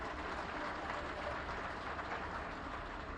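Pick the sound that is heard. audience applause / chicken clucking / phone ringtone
audience applause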